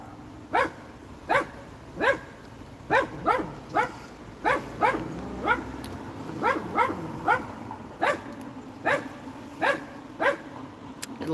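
A dog barks repeatedly and sharply at another dog being walked past, giving a steady run of loud, evenly spaced barks that continue throughout with no talking.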